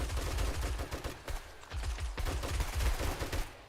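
Sustained rapid turret gunfire in the video game 7 Days to Die, a dense, loud stream of overlapping shots running without a break.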